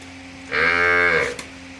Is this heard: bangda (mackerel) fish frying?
no